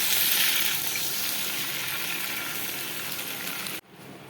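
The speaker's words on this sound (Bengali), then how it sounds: "পটল আর আলুকে এবারে আমি জল দিয়ে দিচ্ছি" Water poured into a hot pan of frying potatoes and pointed gourd with spices, a loud, dense sizzling hiss that holds steady for almost four seconds and then drops off abruptly.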